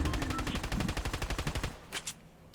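Rapid automatic gunfire from players fighting in Fortnite, a fast burst of evenly spaced shots lasting under two seconds, followed by a couple of louder single cracks.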